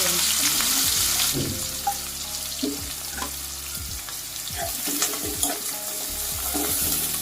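Onions fry in hot oil for a spicy prawn masala, giving a loud, constant sizzle broken by stirring scrapes and clatters of a spoon against the pan.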